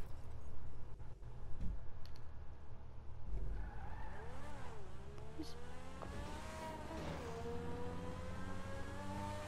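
A video game race car revs and accelerates, with tire squeals and skids, then a rising engine whine as it speeds away, loud and continuous with no talk.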